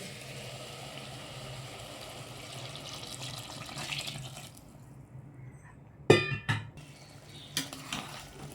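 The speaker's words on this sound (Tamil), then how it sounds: "இப்போ இந்த கொச்சை தண்ணியை வந்து நம்ம ஊற்றிக்கலாம்" Water poured into a pot to boil for meal maker biryani, a soft steady splashing rush for about five seconds, followed by a few sharp metallic clanks of utensils against the pot.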